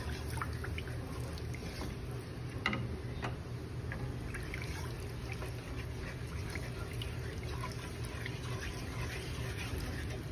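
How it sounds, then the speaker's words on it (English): Water poured from a cup into a pan for luncheon meat and mushroom gravy, a continuous, fairly quiet trickling pour that holds steady with one small splash near the start. "we're gonna add a cup of water"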